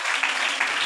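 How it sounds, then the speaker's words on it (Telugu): Loud, sustained applause from a church congregation during a Palm Sunday sermon, dense clapping that rises and swells across the full second with no talk over it. "చప్పట్లు కొడదాం ఒకసారి దేవునికి గట్టిగా"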